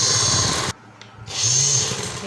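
A sewing machine stitching the seat seam of cotton trousers whirs in two steady close bursts separated by a short pause.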